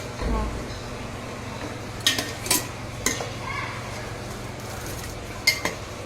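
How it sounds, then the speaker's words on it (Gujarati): Fenugreek seeds rattle and clink against a pan while being stirred and roasted for mango pickle masala, with a few sharp scraping knocks of the utensil over a steady low hum. "જો મેથીનો અવાજ આવે છે. આ ખખડે છે ને, હા, આવી રીતે અવાજ આવવો જોઈએ મેથી."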